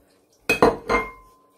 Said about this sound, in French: Je mets tout mon beurre.